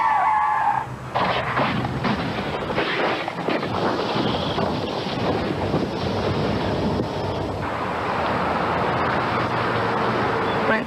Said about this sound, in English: slammed on brakes